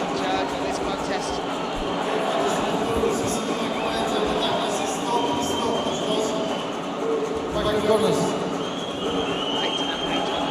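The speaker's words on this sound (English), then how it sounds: "The crowd, every man and woman in this arena, cheering on Ramazan Kishef." Dense arena crowd roaring and cheering at an MMA bout between Ramazan Kishev and Brazilian fighter Otavio Dos Santos, a steady broad wash of noise throughout with a slight swell near the end, likely under announcer commentary.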